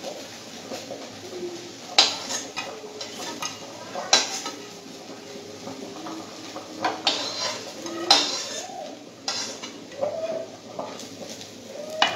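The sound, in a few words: pots and utensils handled while taking rice off the stove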